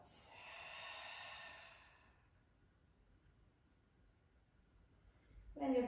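A long, soft exhale during a guided breathing exercise, breath flowing out steadily for about two seconds and fading to near silence, followed by a brief faint rustle at the end.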